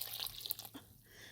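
Water trickles and splashes into a bowl of spicy desi pancake batter with chili powder, a brief, faint pour with soft liquid spatter.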